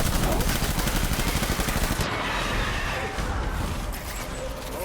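Rapid gunfire from a video game firefight in Death Stranding rattles loud and dense for about two seconds, then cuts off, leaving a softer wash of scattered shots and noise.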